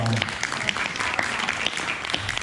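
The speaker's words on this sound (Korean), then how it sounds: "박수 부탁드리겠습니다." Applause from students at a middle school basketball league draft event, a dense steady clatter of clapping lasting a couple of seconds, with a few voices mixed in.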